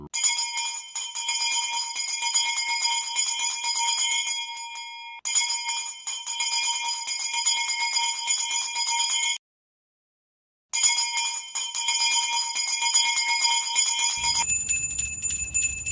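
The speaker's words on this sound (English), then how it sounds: "It says ring the bells." A Salvation Army bell chimes repeatedly in a steady, bright peal with sustained ringing overtones, pausing briefly twice before resuming, then cutting off abruptly.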